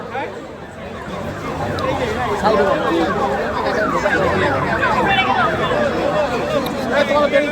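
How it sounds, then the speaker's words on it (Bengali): An ambulance siren wails loudly and steadily as it passes through a large protest march organised by an engineering college, heard over continuous crowd babble and voices. "একটা অ্যাম্বুলেন্স আসছে, একটা অ্যাম্বুলেন্স আসছে।"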